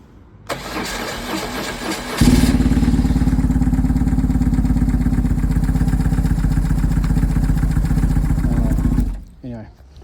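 A BMW 1150GS motorcycle engine turns over with a starter whir, catches and settles into a steady loud idle nearby for several seconds, then cuts off abruptly.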